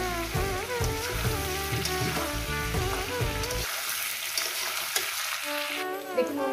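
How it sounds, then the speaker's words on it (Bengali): Potatoes and papaya fry with turmeric in a pan, giving a dense, continuous close sizzle with a few stirring knocks. Music plays over the first half and then drops away, leaving the frying alone. "এই আলু পেঁপে ভাজার মধ্যে দিয়ে দেবো হলুদ।"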